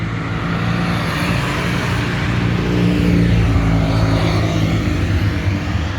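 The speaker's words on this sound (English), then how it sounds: "there's no way I can keep up with the cars driving on the main straight" Loud, continuous roar of race car engines on the main straight during a 24-hour race, with overlapping passes swelling and fading over a steady rumble of traffic.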